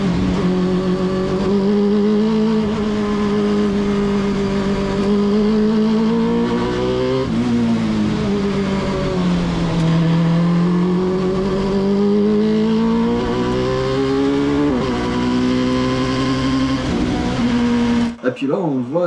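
Race car driving a hill climb course at Donzy-le-Pertuis, its engine droning loudly and steadily with rising and falling pitch through bends, heard from inside the car, cutting off abruptly near the end.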